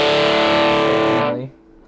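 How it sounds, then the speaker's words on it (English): A heavily distorted electric guitar chord rings out through the drive channel of a Boss ME-80 multi-effects unit, loud and sustained before cutting off sharply near the end. "Here's the drive channel, which is going to probably be the most distortion."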